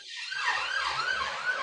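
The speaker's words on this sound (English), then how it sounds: "Excuse the sirens in London" Emergency vehicle sirens on a London street wail steadily throughout, a rising and falling tone that stays fairly loud over low traffic rumble, with no talking.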